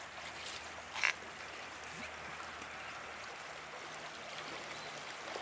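The El Boquerón river near El Estor, Izabal, flows beside a bridge as a steady, soft, broadband rush of water that holds evenly throughout, with one brief faint knock near the start.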